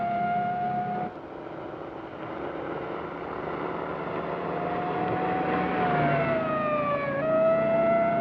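A pursuing Mexican police motorcycle's siren wails in the 1950 film Borderline, its tone rising and falling over a steady engine drone as it closes in, sustained and moderately loud.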